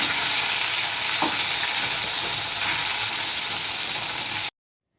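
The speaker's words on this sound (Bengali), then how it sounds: "আমার মাছটা ভাজা হয়ে গেছে" Pieces of rohu fish fry in a pan, giving a loud, continuous sizzle that is close and steady, then cuts off abruptly near the end, with no speech.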